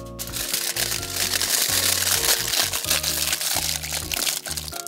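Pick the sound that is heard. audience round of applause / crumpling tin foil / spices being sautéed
crumpling tin foil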